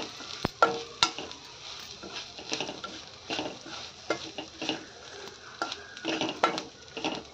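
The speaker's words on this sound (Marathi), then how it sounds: "आता हा मसाला आपण चांगला परतून घेऊया." Spicy red masala frying in a pan for vada curry, a soft sizzle under repeated scraping and stirring strokes of a spoon, close and fairly quiet, no talking.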